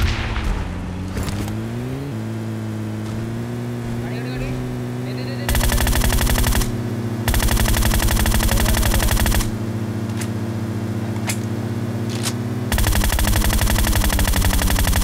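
Rapid bursts of automatic gunfire in PUBG at Pochinki, long sustained volleys with brief gaps, loud over a steady humming background and faint voice.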